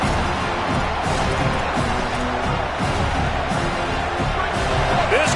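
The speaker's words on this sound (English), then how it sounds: "This crowd bringing the energy and noise early." Stadium crowd at a Penn State versus Purdue college football game, a loud continuous roar of many voices with rumbling undertones, steady throughout with no clear announcer speech.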